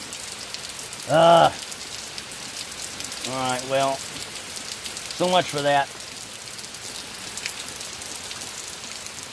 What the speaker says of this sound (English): So, this is raining pretty good.